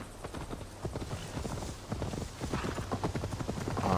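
Horse hooves clip-clop at a steady galloping rhythm in Assassin's Creed Valhalla, loud and close, with a faint whinny and game ambience behind.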